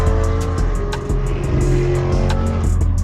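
Several car engines rev hard and roar close by, steady and loud, with the pitch climbing as they pull away together.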